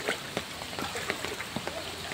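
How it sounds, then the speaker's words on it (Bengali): Steady rain falling on a wet road and puddles, a soft continuous patter with scattered louder drops close by and no voices. "বৃষ্টি পড়তেই আছে, তা সারাদিন আছেই"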